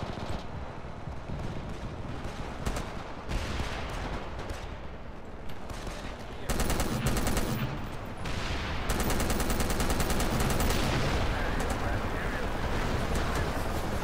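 Heavy gunfire in the Battlefield 2 video game with the AIX mod, sustained rapid shots and bursts with booming explosions, loud and continuous while players talk over the firefight.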